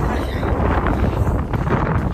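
Strong wind buffets the microphone outdoors beside a neighbor's door, a loud, gusting rumble and roar that swells and dips throughout with no clear speech.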